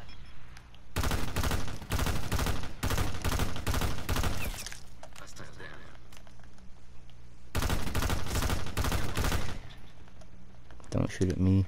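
Rapid automatic gunfire rattles in a Black Ops 4 free-for-all match, two long loud bursts separated by a quieter stretch, with a brief flurry of shots at the end and faint voices underneath.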